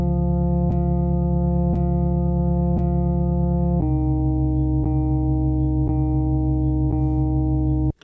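A sampled loop rechopped into just two alternating sustained notes, each chop changing with a soft click at regular intervals, warm and steady with rich harmonics and no drums or voices.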